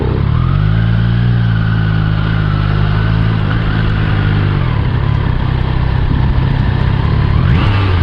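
A motorcycle engine running loud and close, its steady drone rising and falling as the throttle revs, with road noise throughout.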